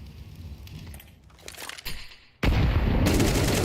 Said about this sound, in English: Good timing on that follow-up nade.